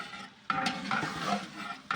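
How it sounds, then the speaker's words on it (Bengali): Fried meat being stirred into spices in a cooking pot at an outdoor winter picnic, with a few scraping, clinking strokes of a spoon against the pot over a soft sizzle. "এবার ভাজা মাংসগুলো সব মশলার ভিতরে দিয়ে দিল"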